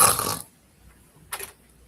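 A voice imitates snoring with two rough, breathy bursts: a long one at the start, then a brief silence and a shorter snort.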